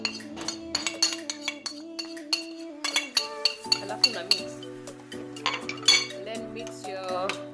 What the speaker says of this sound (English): So we are going to put our spices into the yogurt.